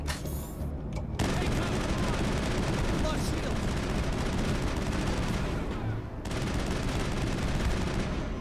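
Sustained automatic gunfire in Mass Effect, a dense, continuous roar of rapid shots with a brief pause partway through, loud and close.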